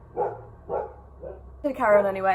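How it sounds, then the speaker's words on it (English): A household dog barks three times in a row at a moderate distance, followed by someone speaking over it. "excuse my dog barking"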